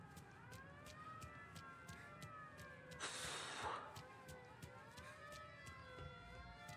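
Faint wailing police sirens in Mafia: Definitive Edition rise and fall over a distant hum, interrupted midway by a brief burst of hissing noise.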